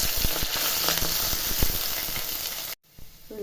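Chopped ginger and garlic crackle and sizzle steadily in hot oil, with faint stirring clicks. The sound runs loud and close, then cuts to near silence and leaves only a faint low hiss at the end.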